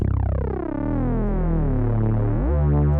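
A lone Reese bass synth drones with slowly shifting, phasing detuned tones, smooth and steady, then changes pitch near the end.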